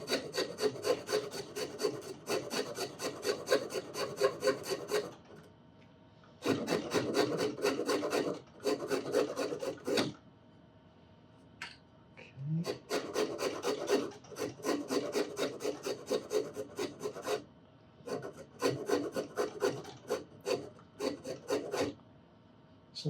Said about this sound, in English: I'm going to use something other than this coarse file